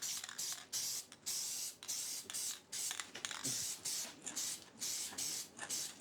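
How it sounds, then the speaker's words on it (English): Repeated bursts of hissing aerosol spray, close and fairly loud, pulsing on and off in short rhythmic blasts. "I'll just use some Sally's Quick Grip and just spray this top surface to start with."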